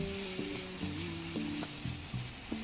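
Squid sizzle steadily as they are stir-fried in a pan, with a spatula scraping and knocking against the metal in uneven strokes, over a constant frying hiss, close up and fairly quiet.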